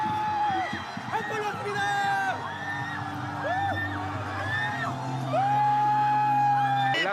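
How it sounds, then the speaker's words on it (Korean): A crowd in Gwanghwamun Square, Seoul, erupts in cheers and whoops after Korea's first goal at the Qatar World Cup. Loud, sustained yelling voices rise and fall in long swells throughout. "첫 골이 터지자 광화문에도 드디어 함성이 울려 퍼집니다"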